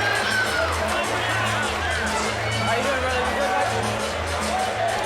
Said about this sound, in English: The crowd appreciative of the effort.